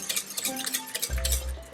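Water and vanilla extract are stirred together for a low-calorie chiffon cake, giving a brief run of light, close clinks and scrapes, then a low hum near the end.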